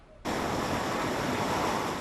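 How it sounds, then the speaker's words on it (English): The River Wye in Monmouth, Wales, in flood at record height during Storm Dennis, a loud, steady rushing roar of torrent water that starts abruptly and continues without pause. "The River Wye tearing along at a record height in Monmouth in Wales."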